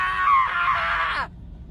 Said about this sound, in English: this is my scream 4 months on testosterone